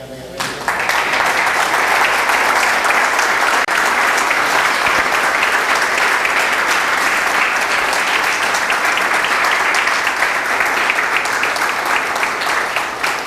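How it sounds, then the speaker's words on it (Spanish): Sustained loud applause from a congregation at a church sermon seminar on Romans, dense steady clapping filling the whole stretch after a brief moment of speech at the start. "¿Cuánto le da un aplauso a Él?"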